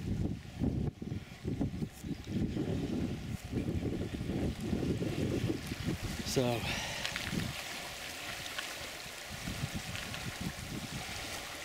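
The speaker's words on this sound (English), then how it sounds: "This is the Fall River going under US 34." Fall River after joining the Roaring River, flowing with a strong current under the US 34 road bridge in Rocky Mountain National Park, a steady broadband rush of water with wind buffeting the microphone and someone talking briefly over it.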